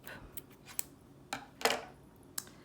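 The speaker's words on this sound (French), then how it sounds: "Et je coupe." Scissors cutting crochet yarn: a handful of short, close snips and clicks spread across a quiet moment, with no talking.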